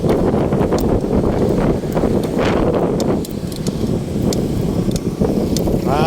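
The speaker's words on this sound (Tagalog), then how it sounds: "Hangin kaya malikabok." Wind rushes continuously across the microphone in a dense, blustery roar during a bike ride from Makati to MOA, with faint clatter and traffic-like sounds in the background.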